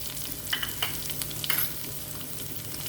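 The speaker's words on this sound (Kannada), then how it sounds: "ಈಗ ಈರುಳ್ಳಿ ಒಂದು ಈರುಳ್ಳಿ ಹೆಚ್ಚಿಟ್ಕೊಂಡಿದ್ದೆ ಅದನ್ನು ಹಾಕ್ಕೊಳ್ಬೇಕು" Sliced onion frying in a pan for a drumstick fry, a steady sizzle broken by a few short scraping stirs near the start and middle, close and alone.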